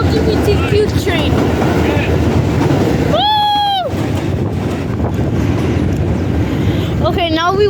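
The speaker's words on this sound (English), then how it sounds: "The LGBTQ train." An R62A subway train passes through 125 Street station with a loud steady rumble and rattle of wheels on rails, broken by a couple of sharp high wheel squeals or horn tones, while people talk excitedly nearby.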